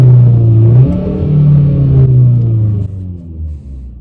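Inside a 2020 Kia ProCeed GT, the 1.6-litre four-cylinder engine starts in normal mode, giving a loud low rumble that swells briefly, then settles and drops toward a quieter idle.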